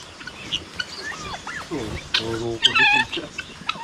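Chickens, a hen and a rooster, cluck and squawk nearby in a series of short, uneven calls, with louder bursts toward the end and some speech mixed in.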